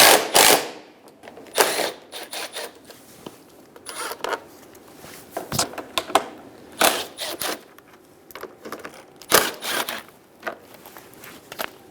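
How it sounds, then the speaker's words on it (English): A 10mm socket removes radiator fan bolts on a 2010-2014 Subaru Outback, with scattered close ratchet clicks, scrapes and metallic clunks in irregular bursts, some louder knocks among quieter handling noises, and no talking. "Using a 10mm socket, remove the 4 bolts for the 2 fans."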